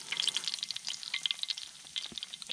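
Bacon frying in a cast iron pan on a multi-fuel stove at an off-grid camp, a close, steady crackling sizzle with dense pops and spits and no talk.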